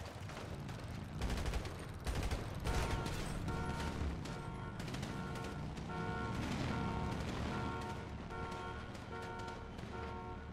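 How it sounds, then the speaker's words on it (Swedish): Video game gunfire in a police shootout crackles as sharp, repeated shots and bursts over a busy background of engine and street noise, with tones beeping intermittently. "Och nu jävla skjuts det."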